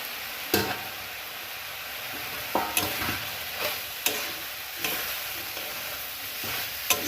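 Fried soybean chunks and potato are stirred in a pan, with a spoon knocking and scraping at irregular intervals over a light, steady sizzle; no voices.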